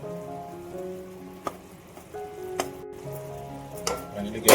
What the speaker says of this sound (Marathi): फक्त गुळ मेल्ट होण्यापुरते एक तार गुळ मेल्ट करून घेऊया